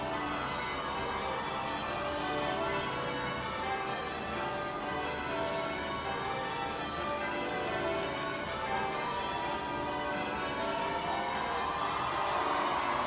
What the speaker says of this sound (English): The bells of Westminster Abbey ring out as Prince William arrives for his wedding service.